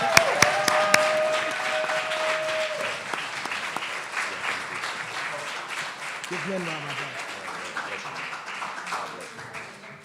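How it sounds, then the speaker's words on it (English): An audience breaks into sustained applause, steady clapping from many hands filling the room, with some voices and cheering mixed in as it gradually fades. "I want a large round of applause"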